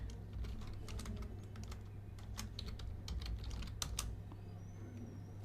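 Fingers tap quickly and lightly on a computer keyboard in an irregular patter of clicks over a low, steady background hum. The typing is quiet and close, with no talking.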